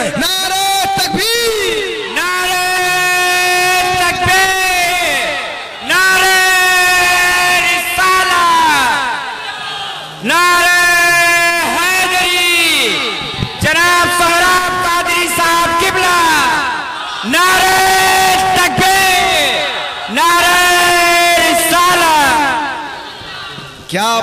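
At a gathering, a large crowd answers the Naara-e-Takbeer slogan with loud, sustained chanted shouts, repeated in about five long waves separated by brief pauses. The calls are strongly voiced and echo, as if amplified.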